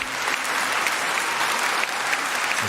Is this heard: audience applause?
yes